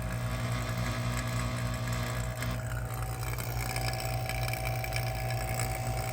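An A/C vacuum pump with a muffler runs steadily while pulling down a 1999 GMC Yukon Denali's A/C system, a continuous low droning rumble with a buzzy motor hum, close and even throughout, no speech.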